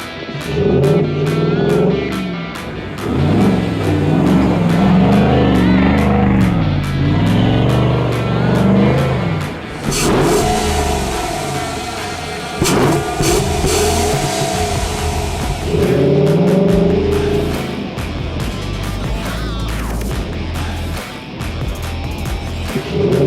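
A Chevy Trail Boss pickup with a 5.3 V8 and a K&N intake filter, revving loudly and close by in repeated surges, with a deeper steady rumble in the later part and no talking.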